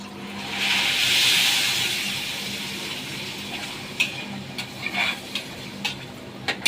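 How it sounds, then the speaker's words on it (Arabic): Water pours onto rice in a hot cooking pot, a broad rushing hiss that swells near, peaks early and then tapers, followed by a few small clinks and taps from the pot. "ننزل بالميه بتاعتنا على الرز."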